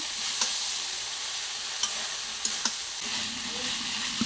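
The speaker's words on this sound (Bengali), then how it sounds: "সেটা এখন এর মধ্যে দিয়ে দেবো। তারপরে ভালো করে নাড়াচাড়া করবো।" Taro stolons and okra frying in a pan while being stirred, a steady close sizzle with occasional sharp clicks and scrapes of the spatula against the pan, no talking.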